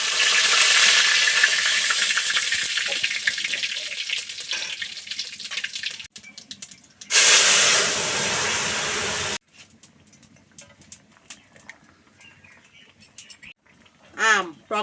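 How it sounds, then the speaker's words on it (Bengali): Whole cumin and bay leaf tempering dropped into hot oil for sour mango dal, a loud sustained sizzle that drops out abruptly, flares again briefly, then gives way to quieter kitchen sounds. "তেল, ডালি ফোড়ন দেওয়ার জন্য, জিরে আর তেজপাতা।"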